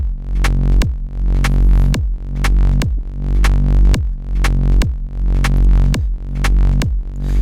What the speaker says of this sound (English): I'm side chaining with the compressor the bass line with the kick. So it sounds like this.